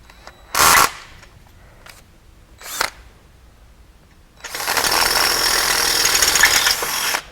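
A 5/16 drill bit cuts through the back wall of a Can Am X3 frame, a loud sustained grinding run of about three seconds, preceded by two short sharp bursts.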